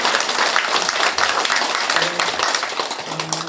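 An indoor crowd at a campaign office opening event claps in dense, sustained applause throughout, loud and near, with faint voices underneath.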